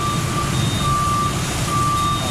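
Warning alarm on a Shizuoka 3.5-ton paddy grain dryer that has failed to measure heat, a high electronic tone sounding in long pulses with short gaps over loud, steady machine rumble.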